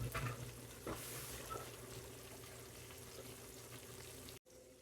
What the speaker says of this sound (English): So we're frying this first and then we fry the next batch.